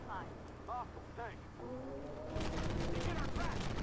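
Tank cannon and machine-gun fire in the Armored Warfare game, a heavy barrage that starts midway and rumbles on continuously, with a voice speaking over the earlier part.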